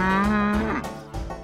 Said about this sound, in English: Rudd, do some cattle talk to him